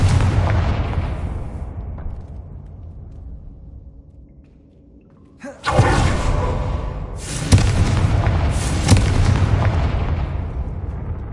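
Confringo blasting spell explosions in Hogwarts Legacy: a rumbling booming burst fades into near silence, then a sharp loud blast and two more heavy explosive bursts follow in quick succession, close and powerful.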